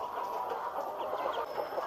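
A flock of pullet chickens, young hens raised long-term on a poultry farm, clucks in a dense, steady chorus that runs throughout with no pauses.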